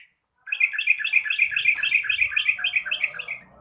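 A yellow-vented bulbul (trucuk) sings loud and close in a long run of bright, rapid repeated chirps lasting about three seconds after a brief silence.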